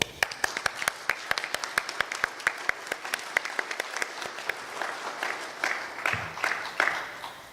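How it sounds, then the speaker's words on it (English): An audience at an opening plenary session applauds its sponsors, a steady wash of many hands with sharp individual claps standing out near the front, holding strong for about seven seconds with no speech. "Let's have a round of applause for all of them."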